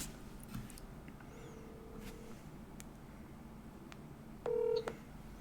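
Telephone keypad tones beep faintly in a short sequence as a call is placed, ending with a louder, longer tone near the end over a quiet background hum.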